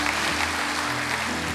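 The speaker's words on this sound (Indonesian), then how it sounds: "Beri tepuk tangan yang meriah buat Tuhan." A church congregation claps together in a steady, dense burst of applause that fills the room, with a low musical hum underneath.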